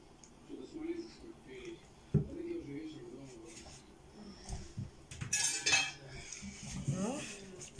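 A spoon scrapes and clinks against a bowl while a thick pirozhki dough mixture with sunflower oil is stirred, with intermittent quiet talking nearby.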